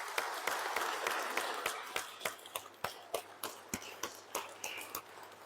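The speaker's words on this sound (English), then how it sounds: "give them a loud applause" A church congregation applauding its volunteers at St. Anthony's Catholic, clapping that starts as a dense wash and thins into slower, sparse individual claps, moderately loud in a reverberant room.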